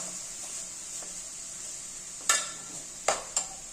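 Carrot rice being stirred in a pan, a soft steady sizzle with a few sharp scrapes of the spoon against the metal near the end, no talking.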